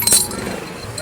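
Motorcycle keys clink briefly and sharply, close by, as they are handed over, with a faint rustle afterward and no voices.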